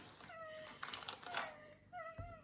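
A small cat meows repeatedly to get what it wants, three or four thin rising mews at moderate distance, mixed with kitchen clatter and faint background voices.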